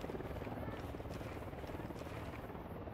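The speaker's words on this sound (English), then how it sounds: "We got a helicopter circling above." A video-game helicopter from Ghost Recon: Wildlands circles overhead, its steady rotor drone and buzzing hum filling the scene continuously at moderate loudness with no other sounds on top.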